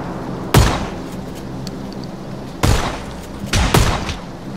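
Gunfire in the battle-royale game PlayerUnknown's Battlegrounds: three loud, sharp shots, one near the start and a close pair later, each ringing out over a steady low background hum.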